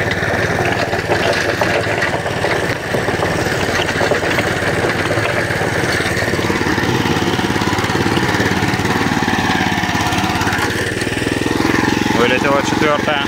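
The engine of an MTZ walk-behind tractor, used for hauling logs, chugs steadily at idle with a constant mid-pitched drone throughout, and a voice speaks over it at times.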